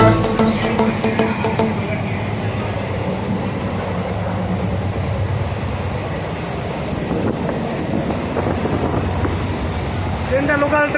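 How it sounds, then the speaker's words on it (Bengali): Local passenger train running, a steady rattling rumble of wheels and carriage heard from inside, with voices talking faintly over it. "ট্রেনটা লোকাল ট্রেন"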